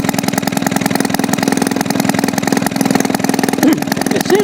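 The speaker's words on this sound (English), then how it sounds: "Not bad at all for a freshly rebuilt engine" Freshly rebuilt Maytag 72 engine idling close by, a fast, even putt-putt chugging that runs continuously without talk.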